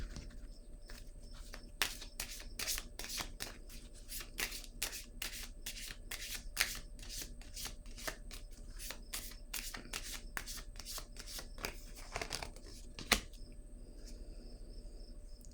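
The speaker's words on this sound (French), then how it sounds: "Je vais déposer une carte ici." Tarot cards shuffled and laid down one by one, a steady run of crisp, close card snaps and flicks against a quiet room background, with no talking.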